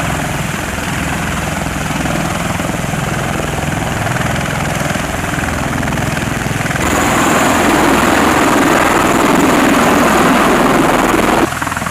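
A loud helicopter drones continuously with a throbbing rotor beat over the US-Mexico border, growing slightly louder partway through; no speech.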